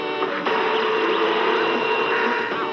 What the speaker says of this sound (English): As you listen to the happy sound of your printer, turning your hard work into beautiful reports